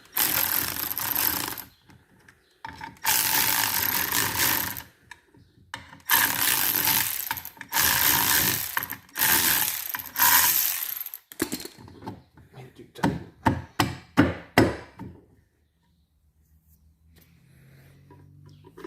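Metal clanks and ratcheting as long bolts are slowly tightened to pull the pump housing off a Sea-Doo SPX jet ski, coming in bursts and pauses before silence.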